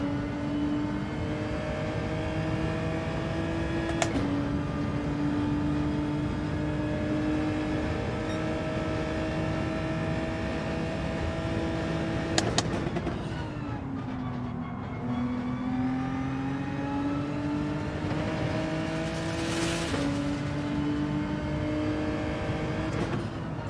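Race car in Gran Turismo 7 weaving side to side to clean its tyres, a steady loud engine drone with gear changes and pitch dips as it swerves, continuous and close.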